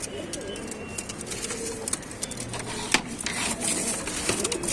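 Pigeons coo in a loft, soft overlapping calls close by among rustling and faint clicks, steady throughout with a busy bird-room background.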